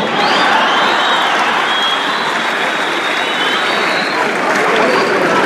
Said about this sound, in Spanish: necesito llamar la atención un aplauso para mi esposo